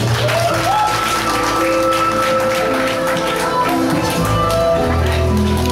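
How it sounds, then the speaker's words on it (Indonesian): An audience at a stress-management lecture for university students claps on cue at the close of the talk. Dense, sustained applause runs the whole time over a low steady tonal hum, loud and fairly close. "silahkan tepuk tangan dan kalian semua duduk"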